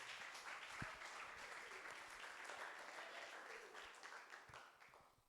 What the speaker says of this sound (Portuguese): As palmas, louva o Senhor.